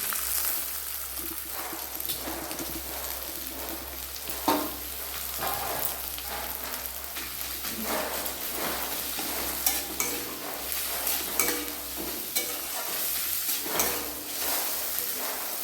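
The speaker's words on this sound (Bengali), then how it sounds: "এবার আমি দিয়ে দিচ্ছি ওই তেলের উপরে কুচিয়ে রাখা নারকেলটা" Chopped coconut fries in oil with ginger for a cauliflower, carrot and bean samosa filling, a close, even sizzle broken by the scrape and clatter of stirring.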